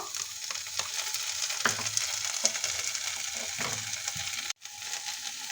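Homemade noodles frying in a pan as tomato sauce goes in, a low steady sizzle with scraping and clicking stir sounds and a brief dropout near the end.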